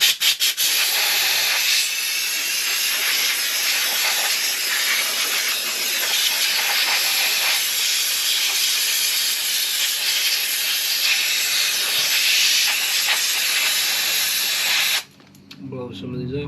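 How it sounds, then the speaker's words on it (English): Compressed air from an air compressor nozzle blasting metal shavings off an RC car's motor mount area: a loud, steady, close hiss running unbroken for about fifteen seconds before cutting off abruptly. "I'm gonna kick on this air compressor"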